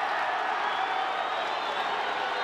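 Rugby league crowd at a 1997 Balmain Tigers versus Manly Sea Eagles match, a broad steady roar of disapproval from the stands, sustained and even throughout.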